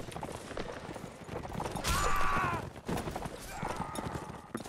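Horse hooves gallop during a cavalry fight in the Napoleonic Wars game Mount & Blade, a steady clatter of hoofbeats mixed with battle noise, a brief whinny-like cry and voices chattering over it.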